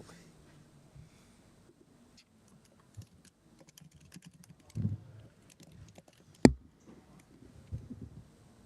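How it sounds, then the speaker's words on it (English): Computer keyboard typing drifts in faintly as scattered light clicks over quiet room noise on a conference call, with one sharper tap standing out partway through. "I think I can hear you typing."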